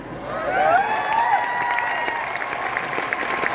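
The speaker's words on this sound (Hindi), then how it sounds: "आप ताली बजाएंगे तो हम गा सकते हैं" An audience claps along at a live stage show during a singer's performance, steady continuous clapping with some crowd noise and a singing voice carrying over it.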